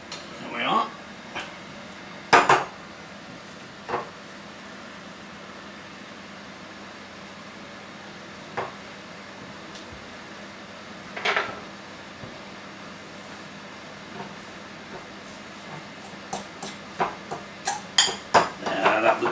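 A spoon clinks and scrapes against a dish while microwaved haggis is stirred, giving scattered light knocks that cluster into quicker taps toward the end, over a low hum.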